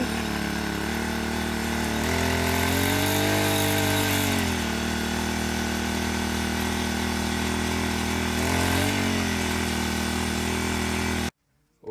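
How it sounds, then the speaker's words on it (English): A small outboard boat motor on a rubber boat buzzes loudly and steadily, revving up twice before cutting off abruptly at the end. "What I want to do now is see if the engine works"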